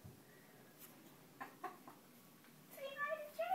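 A pet chicken gives a few soft, scattered clucks and chirps, close by and faint, with a short louder run of squawky calls near the end.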